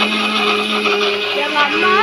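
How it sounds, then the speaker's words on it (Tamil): A mixer grinder whirs loudly and steadily up close while grinding spices with curry leaves for a ginger-garlic paste, its motor tone shifting slightly as the contents churn. "அரைக்கணும், நல்லா போட்டு அரைக்கணும்"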